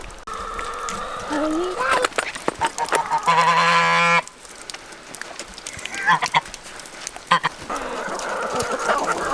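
Goose honking near its nest in a farm coop setting, loud repeated harsh honks with a sustained nasal burst midway, amid shuffling and a voice talking.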